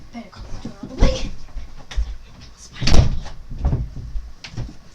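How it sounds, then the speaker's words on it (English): A household door is pushed shut in a few separate bumps and knocks, the thuds close and moderately loud, spread over several seconds in a quiet room. "Better close the door all the way."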